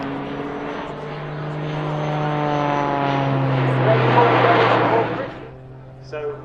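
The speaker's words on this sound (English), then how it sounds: "we're seeing Rich now perform an inverted flat turn, just using the rudder to turn the aircraft through 270 degrees" A Jet Pitts S2S aerobatic plane flies an inverted flat turn at an airshow, its engine making a loud, steady, droning roar. The pitch shifts slowly as the plane turns, then the sound fades near the end.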